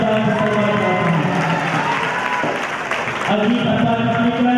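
Audience applause at an Islamic quiz contest, a sustained wash of clapping from a crowd that continues steadily throughout, with a voice speaking over it.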